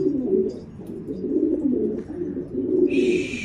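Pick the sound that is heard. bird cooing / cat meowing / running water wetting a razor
bird cooing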